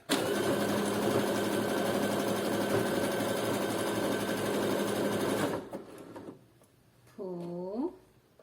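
Sewing machine stitching a thong with rings, a loud continuous rapid whir that runs for over five seconds and then stops, followed by quieter handling sounds and a short rising-and-falling mechanical whine.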